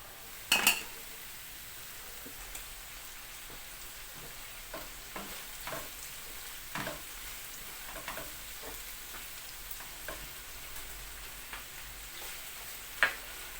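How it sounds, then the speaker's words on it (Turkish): Eggplants and peppers fry quietly in a pan with tomato and paste, a soft steady sizzle broken by occasional sharp clinks and scrapes of a utensil against the pan. "Sonra domatesi, salçası sırayla patlıcanlar da kızarmaya başladı."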